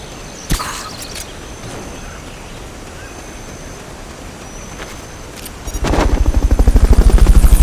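A Fulton recovery helicopter in Metal Gear Solid Peace Walker: a sharp pop, then near silence before loud rotor chopping builds up, close and rhythmic.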